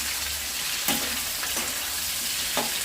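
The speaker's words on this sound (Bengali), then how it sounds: "এগুলোকে ভালো করে আমি ভেজে নেবো।" Mixed vegetable curry fries in a pan with a constant, dense sizzle and occasional soft stirring clanks, close and alone without talk.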